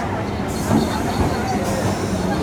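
A train bound for Sealdah rumbles steadily nearby, heard from inside with a low rolling drone and some clatter, while people talk faintly in the background.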